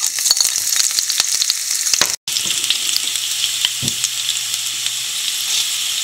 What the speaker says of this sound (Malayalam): കറിവേപ്പിലയും കൂടി ഇട്ട് കൊടുക്കാം.